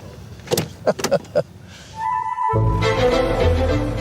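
A car door clicks and thumps a few times, then a low steady engine or motor hum takes over as someone gets into the car; brief muffled sounds precede it.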